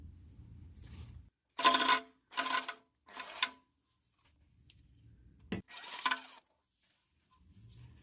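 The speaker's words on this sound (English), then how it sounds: "go ahead and remove these 19 10mm fasteners holding down the pan to the transmission" Bolts being loosened and pulled from a Kia Sorento transmission pan, a 10mm fastener at a time: several short, fairly loud bursts of ratcheting and metallic clinks with quiet pauses between them, close up and without talk.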